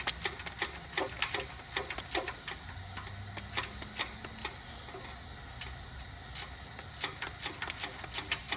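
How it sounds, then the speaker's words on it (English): Ratcheting box wrench breaking a nut free on a Toyota 2.4L four-cylinder engine during head gasket work, heard as quick bursts of sharp metallic clicks in an uneven rhythm, close and moderately loud, with no voices. "I take a ratcheting box wrench, put on that nut and break it free."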